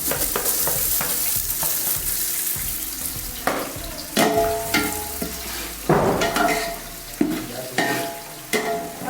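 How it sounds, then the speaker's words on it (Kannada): A large batch of finely chopped onions, about 1.5 kg, frying in very hot oil in a big pot for mutton biryani, a steady close sizzle and crackle broken by repeated scraping stirs of a ladle, no talking. "ನೋಡಿ ಎಣ್ಣೆ ತುಂಬ ಬಿಸಿಯಾಗಿರೋದ್ರಿಂದ ಬೇಗ ಚಟಪಟ ಆಗುತ್ತೆ ನೋಡಿ"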